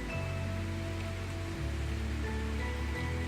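Steady rain patters on a surface, a continuous hiss with low hum underneath throughout, no voices.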